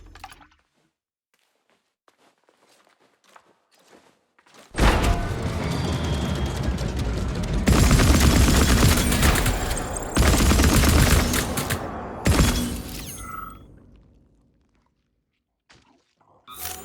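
Sustained bursts of rapid gunfire and explosions from the video game Atomic Heart, loud and dense for several seconds, pausing briefly, then resuming before fading to quiet.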